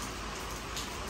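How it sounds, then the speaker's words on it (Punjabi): Monsoon rain falling steadily, a dense even hiss of drops on surfaces, fairly quiet and continuous with no voices. "ਮੀਂਹ ਪੈ ਰਿਹਾ ਬਾਈ"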